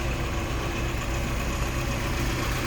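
The 1.6-liter inline four-cylinder engine of a 1990 Mazda MX-5 Miata idles smoothly with the hood up, a steady low hum heard close and alone, with no talking.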